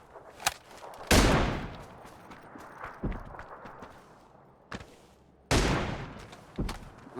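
Sharp M24 sniper rifle shots crack out in a game, two heavy blasts standing out among scattered smaller bangs and clatter, with quiet gaps between.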